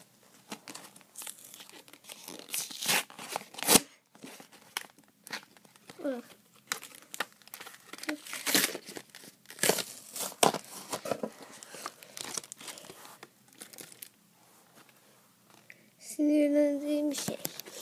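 New toy packaging is torn and unwrapped, with close, loud bursts of crinkling plastic and tearing paper scattered throughout, under occasional talk and a tonal squeak near the end.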